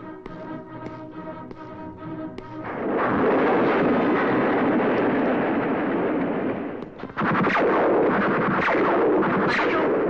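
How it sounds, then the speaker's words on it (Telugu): A bomb blast in an action film scene: after a tonal stretch, a loud, broad rumbling explosion erupts and roars for several seconds, then dips briefly and surges again. "బాంబు పేలింది"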